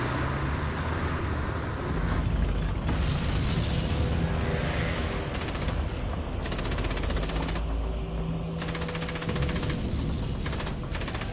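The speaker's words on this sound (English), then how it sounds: "The powerful Russian tanks, the T-34s, are quick to retaliate." Russian T-34 tanks fire in a World War II battle against German Tiger tanks. The gunfire is dense and relentless, with rattling bursts and heavy booms layered into one loud, continuous wall of battle noise.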